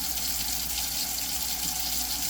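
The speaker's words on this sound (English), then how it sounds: "turn on the cold water" Steady cold water from a tap pours continuously into a sink, a constant hiss and splash with no talking.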